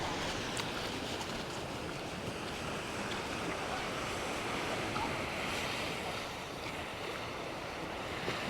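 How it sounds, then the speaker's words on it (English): Steady surf rolls along a long beach at Naklua, north of Pattaya, Thailand, a continuous broad wash of waves mixed with gusting wind buffeting the microphone. "It's a long beach."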